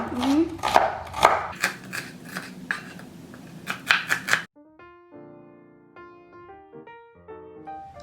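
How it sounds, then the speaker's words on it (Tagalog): Knife chopping onions on a cutting board for Bicol Express, a run of quick, uneven near taps for about four seconds, then stopping as a soft tonal music-like sound takes over. "first, Ma, we're going to chop on onions"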